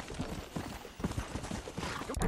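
In the Western video game Red Dead Redemption, a horse's hooves clip-clop at a steady rhythmic pace on the ground, close and fairly loud.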